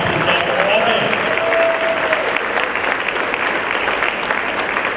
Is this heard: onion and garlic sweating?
no